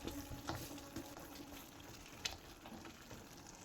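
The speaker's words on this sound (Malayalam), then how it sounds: "എല്ലാം കൂടി ഒന്ന് ഇളക്കി കൊടുക്കാം." Chana dal mixture stirred in a pan gives a faint, steady sizzle with soft scraping and a few light clinks, quiet and close.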